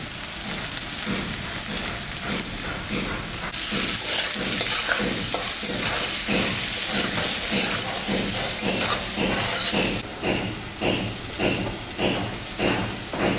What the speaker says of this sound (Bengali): আলু আর ঝিঙ্গাটা ভাজা ভাজা হয়ে গেছে